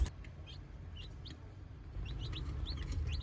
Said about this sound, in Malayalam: അപ്പോൾ ഇതാണ് നമ്മളെ പുതിയ കോഴിക്കുട്ടികൾ.